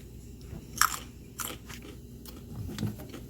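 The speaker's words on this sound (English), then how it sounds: "Today my snack is carrots." Raw carrots being bitten and chewed up close, a few sharp crunches followed by quieter chewing over a low room murmur.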